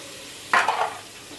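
A brief burst of hissing sizzle as vegetables for pulao hit hot oil, fading quickly back to a low background hiss.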